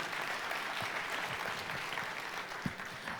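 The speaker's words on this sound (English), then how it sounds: "Give a big round of applause for Mr. Dan Rome once more" An audience claps steadily and fairly loudly after a speech at a business event, a dense even wash of applause with no voices over it.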